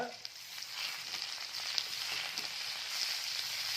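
Crab fry with mint, chili powder and coriander hisses and sizzles steadily in a hot pan while being stirred, a dense close frying sound with faint scraping ticks throughout.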